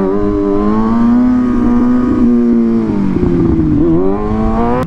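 A motorcycle engine revs steadily at close range, its loud, sustained drone rising and falling slightly in pitch with a few crackling pops, alone without talk.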